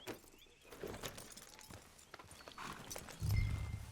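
A horse's hooves clip-clop in the video game Red Dead Redemption 2 while it walks at an even pace, with a heavy low rumble swelling near the end.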